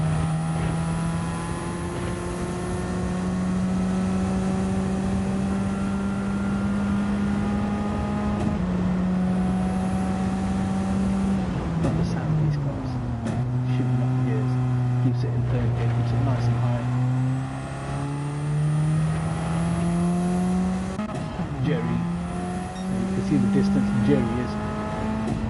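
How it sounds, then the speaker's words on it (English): Race cars in a racing video game swing through S-bends, a loud steady engine whine rising and falling in pitch as the car slides around, with game sound throughout. "Let's see how Molson's driving through these S's"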